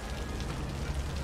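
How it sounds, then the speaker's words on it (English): Steady heavy rain in the city-building game Cities: Skylines, a dense broadband hiss of downpour that stays even and continuous through the short stretch with no talking. "Oh, man, the rain is so heavy."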